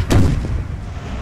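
Cannons fire in Napoleon Total War, a heavy boom opening the moment and then rolling away into a low rumble of distant battle noise.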